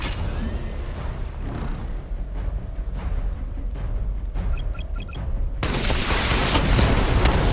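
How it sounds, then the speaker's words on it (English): Missile barrage firing in a video game: a rapid fusillade of hissing launches and dull booms over a constant mechanical rumble, ending in a louder, denser burst of explosions. "Charge up missile barrage to level 2 and destroy 4 active targets to complete diagnostic test."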